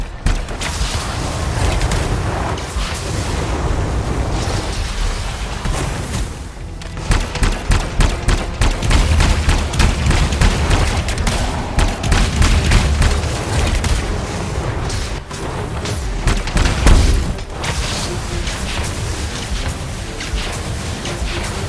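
Crystals exploding in the video game Anthem, a dense run of sharp bursts and booms rattling on for over twenty seconds, loud and close, with heavy rumbling stretches and rapid crackling volleys.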